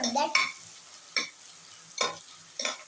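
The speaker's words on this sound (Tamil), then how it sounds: "வெங்காயம் வதங்கி வருது. கொஞ்சம் ஃபாஸ்டா வதங்க உப்பு ஆட் பண்றாங்க." Onions sautéing in a pan for biryani, stirred in a few separate scraping bursts over a low, steady background sizzle, heard close up with no talking.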